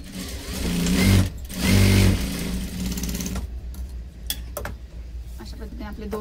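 A sewing machine stitches tucks into a blouse in two quick, loud whirring bursts. Lighter handling clicks and rustles follow, and a voice talks faintly underneath.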